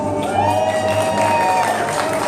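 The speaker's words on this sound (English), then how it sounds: "You're right to applaud that" Audience at a live stunt and magic show applauds and cheers steadily, a dense wash of clapping and crowd noise held at an even level throughout with a low hum beneath.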